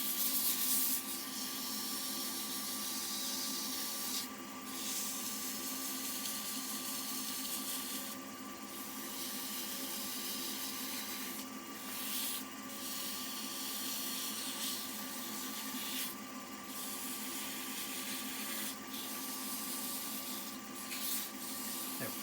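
A wooden wand is hand-sanded with fine upper-grit sandpaper in a steady, close, hissing rasp that carries on nearly unbroken, with short gaps where the strokes pause.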